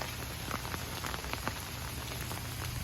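Steady rain pattering across surfaces at an outdoor zoo, with scattered close droplets standing out against a constant wash of rainfall and no talk.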